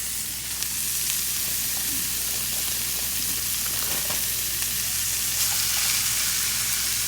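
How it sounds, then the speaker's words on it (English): Ground beef sizzles steadily in a pan with browned onions, a loud continuous frying hiss with faint scrapes and no talking. "go ahead and add in your 1 pound of ground beef"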